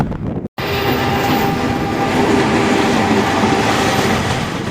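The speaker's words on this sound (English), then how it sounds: "Freight train." A freight train rolls past near Kairakuen garden in Mito, Japan, with a steady loud rumble and rattle of wagons close by, continuous after a brief dropout at the start.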